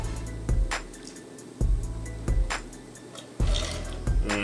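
Shallot butter broth poured over clams, several short liquid splashes and drips landing in uneven bursts, fairly close with nobody talking.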